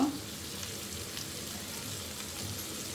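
Onion, tomato and green chili fry in a pan with a steady, soft sizzle that stays low and even throughout, with no voices over it.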